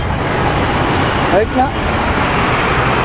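Steady road traffic noise on a congested street in Delhi, a continuous loud roar of cars and other vehicles with a brief horn-like tone partway through, heard around a delivery rider picking up an order.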